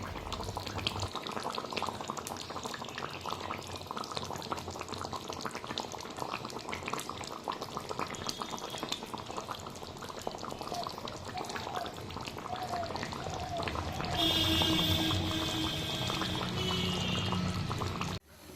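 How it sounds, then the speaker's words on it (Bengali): Rithe fish curry gravy boiling in a pot, a continuous bubbling and gurgling close by that swells louder toward the end, with no speech. "মশলা টশলা কষিয়ে এই দেখো ঝোলটা এখন ফুটছে।"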